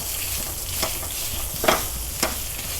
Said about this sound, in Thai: ผัดจนว่ามันหอมพี่น้อง